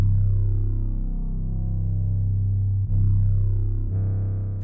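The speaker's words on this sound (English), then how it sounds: "But I wanted to add some overdrive." A single sustained 808 bass note in a jerk drill remix, driven through overdrive distortion that thickens its harmonics, held steady and loud with two brief retriggers near the end.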